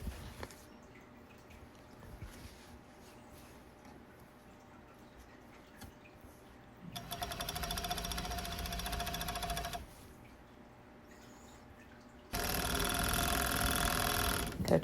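A sewing machine stitches around the edge of a flannel shirt in two bursts, a fast, steady buzzing run of several seconds, a pause, then a louder second run after quieter handling noises.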